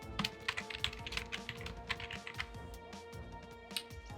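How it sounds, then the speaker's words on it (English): Fast keyboard typing run through an Animal Crossing Animalese extension, a rapid patter of key taps each paired with a chirpy babbling blip, close and steady, with no talk. "Are you running a thing that makes your typing sound like Animal Crossing? Yeah, it's Animalese typing."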